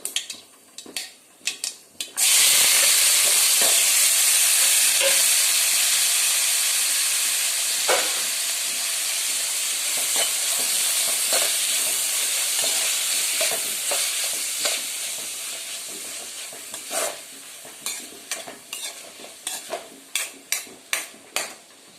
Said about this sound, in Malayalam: സവോള ഇഞ്ചി വെളുത്തുള്ളി ഒരു പച്ചമുളക് തക്കാളി ഇത്രയും കൂടെ ഒന്നിച്ച് ഞാൻ അങ്ങിടുവാന്ന് ഓരോന്നായിട്ടൊന്നും വഴറ്റുന്നില്ല ഒന്നിച്ചിട്ട് വഴറ്റാൻ പോവാം